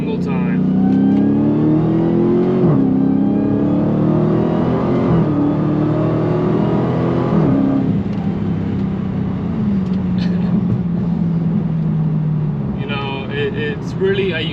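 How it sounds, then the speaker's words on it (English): A Dodge Challenger Hellcat Redeye revs loudly up close, its supercharged engine rising and falling in pitch through several sweeps while someone talks over it. "the Supercharger whine is unmatched. There's no sound like it"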